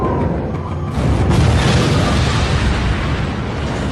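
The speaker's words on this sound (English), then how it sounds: "America is about to drop its second atomic bomb in 3 days." A huge, sustained explosive roar from the atomic bomb detonation over Nagasaki in 1945, starting with a deep boom and continuing as a dense, loud rumble throughout, with no voices.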